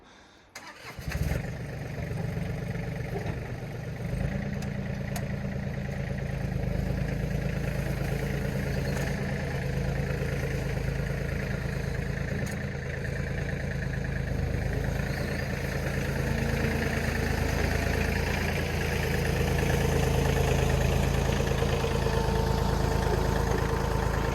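A pickup truck engine rumbles steadily and loudly while plowing snow, a deep continuous drone that swells slightly toward the end, with no talking.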